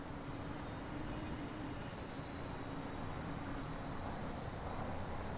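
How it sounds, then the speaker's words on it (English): Trains running in the Transport Fever railway simulation game give a steady, faint rumble of rolling rail cars with a thin wheel squeal, continuous throughout with no talk. "these trains need to get a move on"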